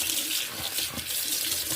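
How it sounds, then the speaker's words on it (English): A kitchen tap runs steadily, water splashing into the sink and down the drain in a close, even hiss with no one speaking. "And you just run the water."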